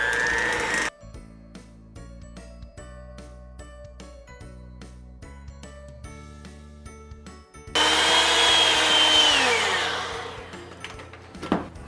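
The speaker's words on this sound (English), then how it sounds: "Now we're going to go ahead and start getting this mixed up." An electric mixer beats gingerbread cheesecake filling spiced with nutmeg and cloves: a quiet whirring hum with ticking, then a louder, higher whine that slowly winds down before stopping.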